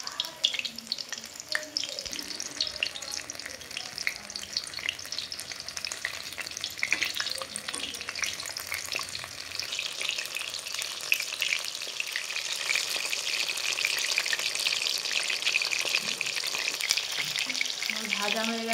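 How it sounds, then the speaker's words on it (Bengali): Chicken satay pieces fry in hot oil over low heat, giving a steady, close crackling sizzle with occasional stirring scrapes that grows slightly denser toward the end. "এগুলোকে হালকা আঁচে ভেজে নিতে হবে,"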